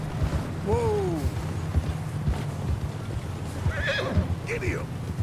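A horse neighs and whinnies twice in the video game Red Dead Redemption II, over steady clip-clopping hooves, with faint talk beneath.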